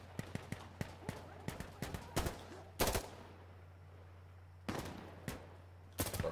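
Gunfire in the Insurgency Sandstorm video game, played on Xbox: a rapid rhythmic string of sharp shots, then heavier isolated bursts spaced apart. The shots are loud and close over a constant low hum.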